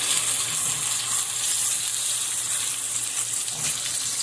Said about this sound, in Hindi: ये मीडियम साइज का प्याज है जो हम ऑयल में जो है वो फ्राई करेंगे